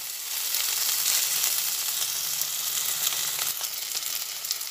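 Fish masala for Kamala Sundari katla sizzles steadily in hot oil as Kashmiri chili powder is stirred in, a continuous close frying hiss with faint scrapes of the spoon.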